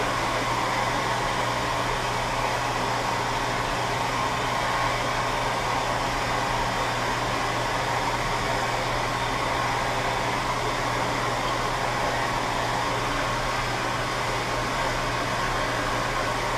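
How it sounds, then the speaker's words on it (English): A heat gun blows steadily over a fresh coat of paint, a constant close whooshing hum that runs unbroken throughout, with no talking. "I like to use a heat gun on it when I'm done. Kind of dries it out nicely."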